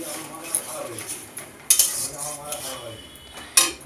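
Spice paste being stirred and sautéed with a little water in a pan, a spoon scraping and clinking against the metal in irregular strokes with a soft sizzle underneath, close by, with faint background voices.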